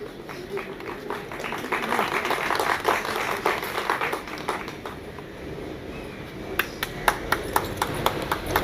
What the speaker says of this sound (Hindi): स्पेशल तालियां हैं।